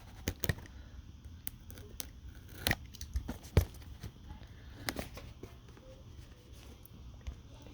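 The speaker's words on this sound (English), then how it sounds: "I can get this knife to cut." A knife saws and slices through the plastic and cardboard packaging of a Razer Mamba Elite mouse, giving scattered sharp cuts, scrapes and crinkles with quiet gaps between them in an indoor room.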